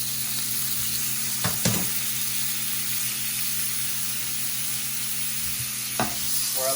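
Butter sizzles and hisses steadily in a hot pan with salmon and shrimp, a dense, continuous frying sound with a few brief clinks from stirring.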